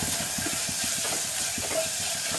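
Cauliflower frying in a pan for gobi masala, a steady loud hiss and sizzle running throughout with faint rhythmic clicks underneath, no voices.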